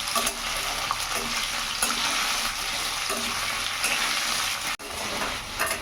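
Pumpkin and mixed vegetables are stir-fried in a pan, with a continuous loud sizzle and repeated scraping strokes of a spatula, close up and without speech.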